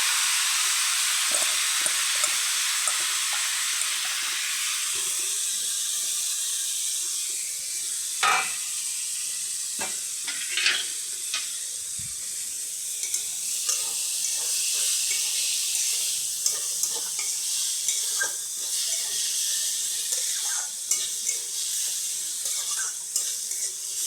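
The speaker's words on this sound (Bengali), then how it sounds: "এই মোচাগুলো এবার তেলের মধ্যে ছেড়ে দেবো।" Banana flower pieces, rubbed with salt and turmeric, sizzle and hiss steadily in hot oil in a pan, with scattered clicks of stirring and utensils over a continuous frying crackle.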